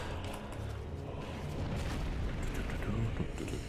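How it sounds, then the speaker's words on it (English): Explosion in Dark Souls III, Ringed City: a continuous deep, rumbling roar with crackling debris-like texture holds at a steady moderate level throughout, without a distinct single blast. "I don't want to get caught in the explosion"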